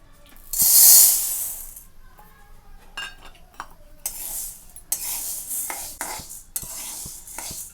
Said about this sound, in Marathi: तर छान असे खरपूस आपल्याला मूग सगळीकडनं भाजून घ्यायचं आहे.